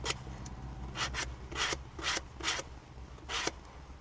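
A sanding block rasps along the leading edge of a wooden boomerang in short, regular back-and-forth strokes, about eight close scratchy passes over a low background hum, no talking.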